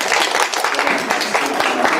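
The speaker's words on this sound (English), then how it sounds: "A round of applause to them all." An audience applauds panelists after a discussion on justice and gender equality, dense steady clapping from many hands throughout, fairly loud and close.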